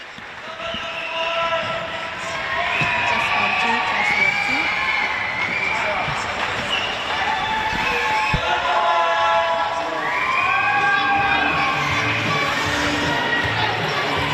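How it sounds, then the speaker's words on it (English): Spectators at a water polo game cheer for the home WA side, a sustained roar of many voices echoing around an indoor pool, rising and falling in waves with a commentator talking over it. "You hear the cheer of the crowd as they're cheering on the hometown side, the WA side"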